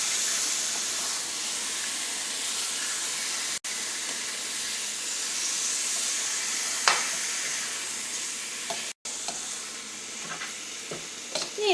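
Chicken with salt being stirred and sizzling in a pan for a red wine chicken curry, a steady loud hiss of frying broken by occasional scrapes and clinks of the spoon.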